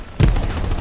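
A loud, close burst of machine gun fire in a World War II video game starts suddenly and continues as a heavy rumbling rattle through the brief moment.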